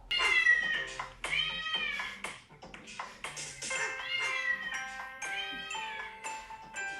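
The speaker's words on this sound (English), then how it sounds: "Cat sounds so spooky." A cat meows again and again, long drawn-out wails rising and falling, loud and close with hardly a pause between calls.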